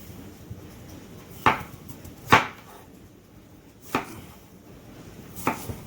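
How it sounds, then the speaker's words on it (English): An onion being chopped with a knife on a cutting board in a home kitchen: four sharp, separate cuts about a second apart, close and clear over quiet room background. "let's go ahead and get some of this stuff chopped up. Just gonna do an onion."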